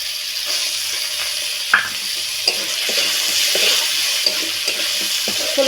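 Soaked chickpeas and grated ginger frying in a pan for a vegetarian pumpkin dish, a steady close sizzle broken by occasional stirring clatters and spoon knocks, with no voices.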